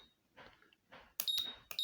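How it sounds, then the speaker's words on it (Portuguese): A washing machine control board beeping on power-up, a few short high electronic tones in quick succession, close and clean, preceded by quiet handling noise. "interface já bipou, já liga"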